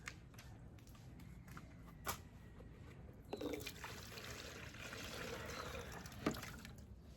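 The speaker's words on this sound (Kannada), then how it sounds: "ಈ ಬುಟ್ಟೆ ನೀರು ಹಾಕೋಬೇಕು." Water poured into a basket or basin, a soft continuous trickle and splash that swells midway with a few louder splashes, close by with no talk.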